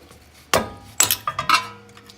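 Loud metal hammer blows strike a Toyota front axle half shaft to knock it free, one sharp hit followed by a quick cluster of ringing strikes, close up in a workshop.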